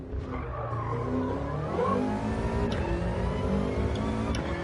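Tyres skid and squeal on a Subaru in a sim racing game, with a dirt-coated set losing grip under braking, a continuous loud screech layered over the engine note with no pause throughout.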